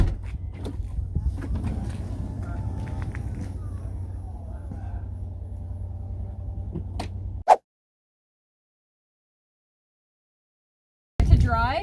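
Powered XL seat lift rising in a Toyota Sienna wheelchair-accessible van gives a steady low mechanical hum for about seven seconds, then cuts off abruptly into silence before a brief burst of noise near the end.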